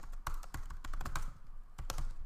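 Fingers type on a computer keyboard, a quick irregular run of close, crisp key taps with brief pauses, no voices.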